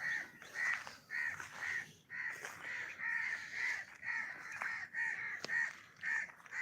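Several crows near a nest in Malir caw again and again in quick, raspy bursts, moderately distant and fairly faint against a soft outdoor background, with no one talking.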